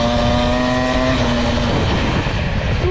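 Peugeot 103 moped engine held at light throttle, a loud steady buzzing drone close by, its pitch easing down slightly partway through, with no voices.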